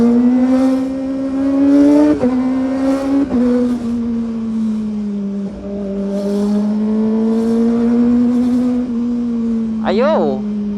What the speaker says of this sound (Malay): Oh, bersilang-silang kereta ha.